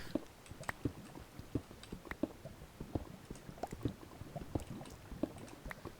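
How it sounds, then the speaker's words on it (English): Water in a video game cave trickles and bubbles continuously, a soft, wet patter of irregular small drips and splashes at a low, steady level throughout. "I can hear water everywhere."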